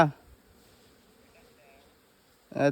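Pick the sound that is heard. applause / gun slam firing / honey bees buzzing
honey bees buzzing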